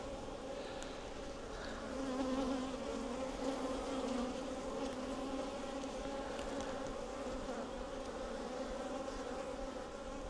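A dense, steady hum of many honey bees buzzing together, close and continuous with no voices.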